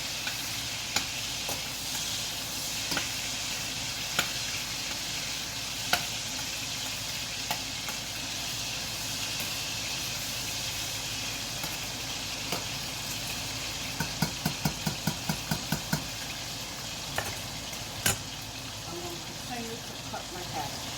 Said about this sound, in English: my bacon is now frying